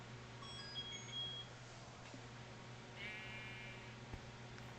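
A faint electronic text message notification chirp, a brief warbling tone sounding over a quiet steady background hum during a modded Minecraft session, with no talk.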